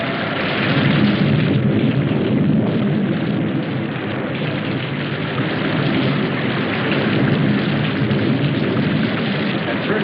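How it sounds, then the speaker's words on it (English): Steady, dense downpour roaring continuously with no breaks, a heavy rain wash; any thunder is buried in the constant rumble. "We didn't pay much attention to the rain, though it seemed heavier than any rain we'd ever seen."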